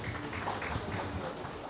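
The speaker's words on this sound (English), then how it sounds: "Let's give him another warm round of applause." An audience at the India Today State of States Conclave 2018 gives a round of applause, a steady wash of clapping heard at moderate distance filling the hall briefly.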